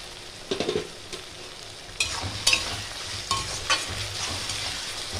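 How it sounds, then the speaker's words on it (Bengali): Ginger-garlic paste sizzles in hot oil over browned onions while being stirred for a Bengali mutton curry, with a steady frying hiss, scraping spatula strokes and a few louder sputtering bursts, close up and without speech. "পেঁয়াজটা লাল হয়ে গেছে, এবার দিয়ে দেবো আদা রসুনের পেস্ট।"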